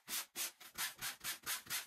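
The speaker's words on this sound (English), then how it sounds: "I have 120 grit sandpaper, and I'm just gonna sand it down" Steady back-and-forth strokes of 120-grit sandpaper smoothing a drywall patch, about eight even rasping passes in under two seconds, close and clear with no voices.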